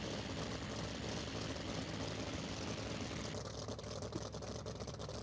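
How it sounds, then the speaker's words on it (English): A Vought F4U Corsair's big radial engine drones steadily at full power in a flight simulator, a continuous loud propeller roar with no voices over it. "because it's a big radial engine, if I feel like I'm getting into trouble here, I just give her a boot full of power"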